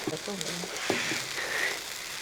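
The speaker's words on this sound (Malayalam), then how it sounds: "ഈ പച്ചക്കറിയൊക്കെ ഉണ്ട് ഈ റൈസിലോട്ട് കിട്ടത്തക്ക രീതിയിൽ ഒന്ന് ഇളക്കി കൊടുക്കുക" Vegetables stirred into restaurant-style fried rice in a hot pan give a steady, close sizzle of frying with soft scraping and stirring, at moderate loudness over just over two seconds.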